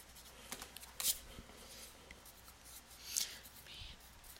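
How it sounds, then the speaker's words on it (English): Marker strokes on a board during a math lesson, a few short scratchy squeaks spaced apart, fairly faint over a quiet room. "I'm going to write"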